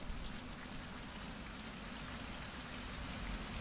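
Steady rain in the survival video game Survival: Fountain of Youth falls continuously, a dense even hiss of drops on surfaces at moderate level, with no talk.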